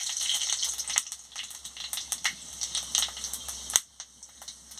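Spices and dried red chilies hit hot oil in a wok over a lit stove, giving a crackling, spitting sizzle with irregular sharp pops throughout, close by and with no voices.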